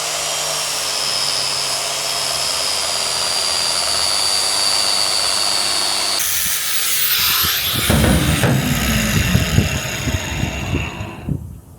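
A power tool cuts metal off a Toyota Land Cruiser 1HZ drivetrain for a low-range reduction gear install, first a steady loud hissing whine, then a rougher grinding cut with uneven bursts close by.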